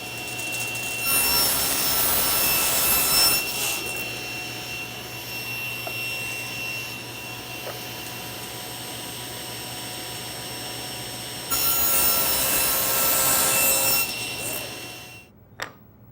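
A table saw cuts miters on wood pieces, its steady loud motor whine swelling at the start and again near the end as blades pass through the stock, with a quieter running stretch between cuts.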